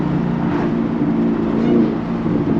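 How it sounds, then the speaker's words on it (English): Nissan GTR cars driving on city streets, heard from inside a vehicle as a steady engine drone and road rumble with a slight swell near the end, no talking. "so y'all can hear the cars, because I know y'all want to hear these cars"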